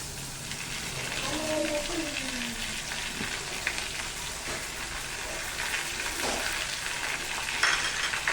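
Schezwan chutney ingredients sizzling and frying in a hot pan as they are stirred, a steady, close crackling hiss throughout with soft scraping strokes and a faint voice in the background.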